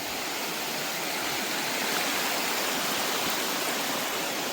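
A mountain stream in the Alaskan ice fields rushes steadily, a dense and even hiss of flowing water that holds a constant level from start to finish, with no voices over it.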